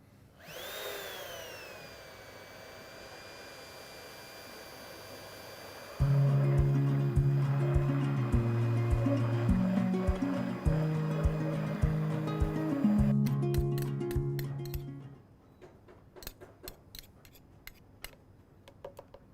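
A mixer blends canola and olive oil into a curried mayonnaise. A whirring tone is followed by a louder, rough, churning motor sound with shifting pitch, which then cuts out, leaving sparse clicks and clatter.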